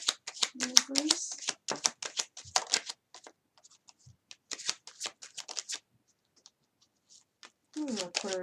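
Tarot cards being shuffled by hand in quick riffling bursts and soft slaps, close by, with a person speaking in short phrases between the shuffles.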